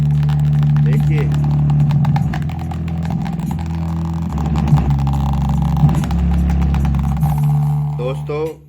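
Heavy bass pumping from a 12-inch subwoofer on a sound test, a loud continuous low rumble that throbs steadily throughout with a person speaking over it near the end.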